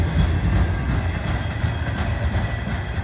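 A northbound freight train of auto rack cars rolls past a tied-down coal train in a siding, a steady close rumble of wheels and rattling cars sustained throughout, with no voices.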